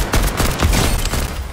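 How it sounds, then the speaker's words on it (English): Rapid bursts of gunfire in the video game Fortnite, a dense overlapping fusillade with several sharp shots close together, loud and continuous across the moment with no talking. "I hear gunfire."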